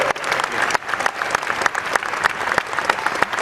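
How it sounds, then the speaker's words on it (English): An audience at a live PlayStation 3 tech demo event breaks into steady, dense applause, many hands clapping at once throughout. "Round of applause for Rick."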